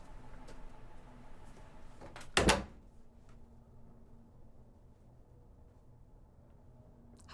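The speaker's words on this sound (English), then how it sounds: "Shut the door." A door shuts with a single sharp thud and brief rattle in a quiet indoor room, preceded and followed by faint low background hum.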